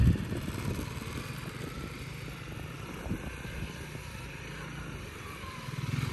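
A Honda CRF300L Rally motorcycle engine rumbles low and steady as the throttle rolls on and it pulls away, rising slightly in intensity toward the end.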